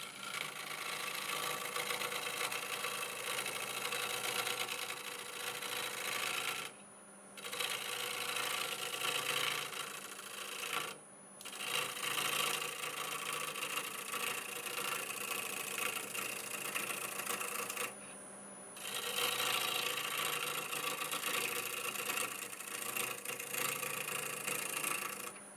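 Wood lathe spinning at 850 with the tool cutting only air, a steady faint motor hum and whine that drops out briefly three times before resuming.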